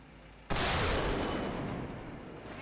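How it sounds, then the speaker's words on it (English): A cannon or recoilless rifle fires once in the War Thunder game, a sudden loud close boom followed by a long rumbling decay. "It's fired out of a cannon or a recoilless rifle."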